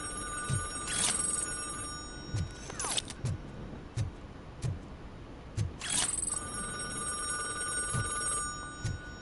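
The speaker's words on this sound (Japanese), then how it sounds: "お電話です。 テレフォン。" Telephone ringing in the video game RoboCop Rogue City: two loud bursts of rapid electronic bell trill, separated by a pause, over a steady background hum with soft periodic thumps.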